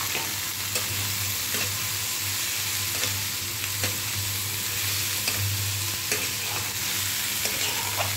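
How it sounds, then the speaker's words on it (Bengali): Ginger and garlic paste and vegetables fry in hot oil, giving a loud, unbroken sizzle with soft, regular stirring taps and a low steady hum beneath. "গরম তেলে একটু আদা আর একটু রসুন বাটা একটু ভেজে নিলাম"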